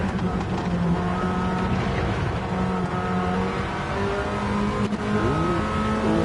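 Race cars lapping Spa in a racing video game, several engines droning and whining together in a steady close roar with gear shifts and rising revs, no talk.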